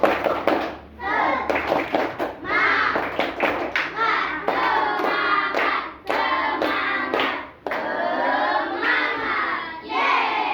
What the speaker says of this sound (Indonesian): kita tepuk semangatnya dulu